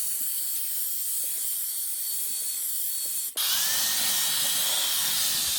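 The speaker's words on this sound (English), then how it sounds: "Easily blow at the seams in the seat, blow to get in and behind areas you can't reach while vacuuming." A Wolfbox MF100 cordless air duster blows a loud, steady hiss of air at the seams of a car seat, with a brief break partway before the airflow resumes even stronger.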